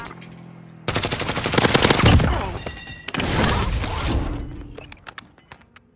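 Assault rifle fire in Warzone, two long, loud full-auto bursts of rapid close-range shots separated by a short break, followed by a few scattered single cracks and mechanical clicks.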